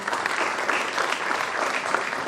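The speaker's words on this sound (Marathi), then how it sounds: "तुम्ही आपल्याच जागेवरून टाळ्या वाजवत राहा" An audience at an award ceremony claps from their seats, producing steady, dense, fairly loud applause from a large crowd, with no voices rising above it.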